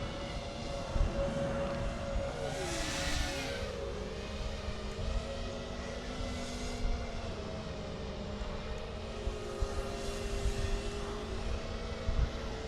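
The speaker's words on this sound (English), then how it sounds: "These props are definitely way more noisy." Steady high-pitched whine of an Eachine LAL 5Style FPV freestyle quadcopter's noisy new propellers that rises and falls in pitch as the craft maneuvers, with gusty rushes of air throughout.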